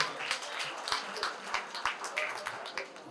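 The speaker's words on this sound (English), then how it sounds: "Can I have a round of applause for you?" A modest audience at an organisation's inauguration and induction ceremony gives a round of applause; soft, scattered clapping with distinct individual claps standing out at a loose rhythm, fairly faint.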